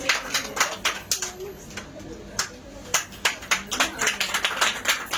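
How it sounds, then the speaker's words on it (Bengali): Audience at a Star Diamond event clapping in uneven bursts, sharp claps close by that swell and fade, with a voice talking over them. "সবাই জোরে করে হাততালি দিব একটু আপুর জন্য"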